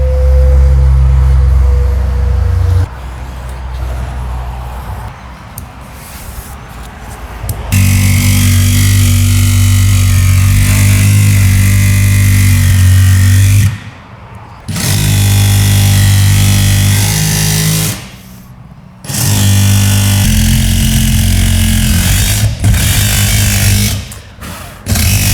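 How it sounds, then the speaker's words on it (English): A jigsaw cuts through the metal roof of a van for a skylight, loud and close, in long harsh bursts broken by two brief pauses, with no talk. "I'm a bit worried about running the jigsaw along this weird bumpy bit"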